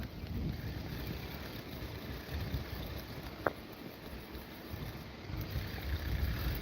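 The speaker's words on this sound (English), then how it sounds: "It's really breezy here. Got a good wind today." Breezy wind on the Passadumkeag River in Maine buffets the microphone as a low, steady rumble with gusty swells and one brief click midway.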